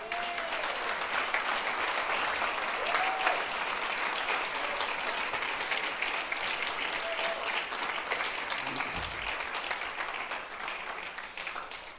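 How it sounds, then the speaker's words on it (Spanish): A church congregation applauds in a sustained, steady wash of clapping heard from within the room, fading slightly toward the end. "Puede un aplauso al Señor."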